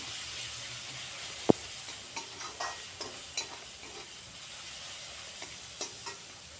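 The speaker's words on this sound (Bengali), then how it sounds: "আবারও একবার কষিয়ে নিচ্ছি মশলাটাকে" Masala and softened onion frying in a pan while being cooked down for stuffed brinjal, a soft continuous sizzle broken by a sharp clink and a few light scraping stirs.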